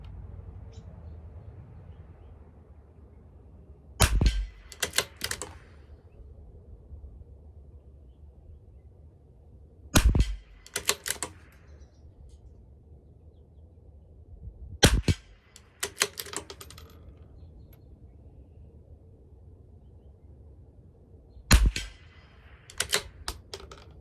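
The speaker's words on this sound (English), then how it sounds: "I'll shoot 4 more." CZ 457 LRP rifle firing Hornady Varmint Express .22 LR rounds at a 50-yard range: four sharp, close shots spaced several seconds apart, each followed by quieter mechanical clicks.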